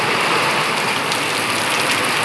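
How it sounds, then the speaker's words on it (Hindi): Heavy rain with hail pouring down around a home, a dense, loud, continuous hiss of drops striking surfaces without any break and with no voices. "बहुत तेज़ बारिश हो रही,"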